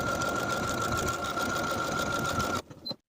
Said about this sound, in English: Now I can sew a buttonhole into the left side of the waistband